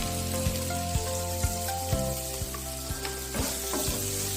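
Onions frying in a pan, a dense, steady close sizzle with regular soft taps of a spoon against the pan roughly every half second, no voices.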